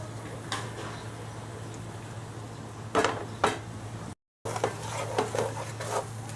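A ladle knocks and scrapes against a pot while jeera rice is mixed, dhaba style, giving a few distinct clinks and taps over a low steady hum in the kitchen.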